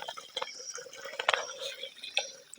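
Water being stirred by hand in a fish pond to loosen and clear out mud, with close, irregular splashes, drips and sloshes, some sharper than others, no talking.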